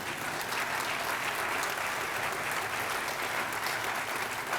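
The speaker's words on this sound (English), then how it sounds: "There should be some applause at this point." Audience applause at a keynote talk, a dense and steady wash of many hands clapping that fills the whole stretch at moderate level, with no voices on top.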